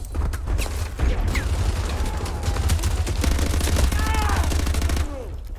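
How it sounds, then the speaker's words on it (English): Automatic gunfire in the Call of Duty Modern Warfare 2 video game, dense rattling bursts nearly continuous across the clip, loud and close, with a voice speaking over it. "I'm just fucking shooting everywhere."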